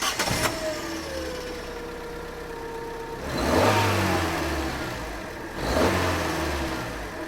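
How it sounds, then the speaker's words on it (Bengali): A car engine starts and runs close by, idling with a steady hum between two strong revving surges that swell and fade, with no one speaking. "আসো গাড়ির ইঞ্জিনের শব্দ শুনি।"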